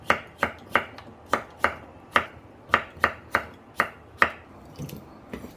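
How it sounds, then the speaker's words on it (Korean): A knife cuts potatoes into thick half-moon slices on a cutting board, about a dozen crisp, evenly spaced chops close up, with no talking. "감자는 이렇게 반달 모양으로 약간 도톰하게 썰어주세요."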